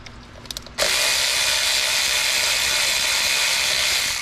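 A power tool whirs loudly and steadily as it loosens a 10 mm bolt on a 2002 Chrysler Town and Country engine, following a few short metallic clicks, running close up without pause for about three seconds.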